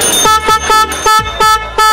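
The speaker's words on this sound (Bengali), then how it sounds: "টিআই অরিজিনাল হর্ন, অনেক দিন অ্যাভেলেবেল ছিল না" A TI original motorcycle horn sounds in five short loud bright toots in a quick, fairly even rhythm, close by and alone.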